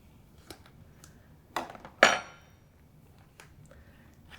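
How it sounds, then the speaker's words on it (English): Spoon scooping out firm red jelly, a few soft wet clicks and squelches spaced apart, one sharper scrape standing out, fairly close and quiet. "I'm going to scoop out half of the jelly"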